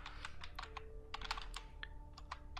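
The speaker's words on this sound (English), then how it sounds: "So I'm going to type in my email ID here." Rapid clicking keystrokes on a computer keyboard as an email address is entered, crisp and close, in short irregular bursts with no talking.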